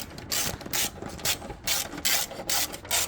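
Ratchet wrench tightening engine mount bracket nuts on a Ford Focus ZX4, heard as repeated bursts of rapid clicking strokes with short pauses between them, close and clear with no talking.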